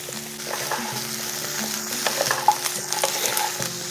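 Mixed summer vegetables fry over a high flame in a pan, with a steady close sizzle and intermittent scraping stirs throughout.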